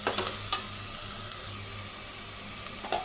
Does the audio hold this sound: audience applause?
no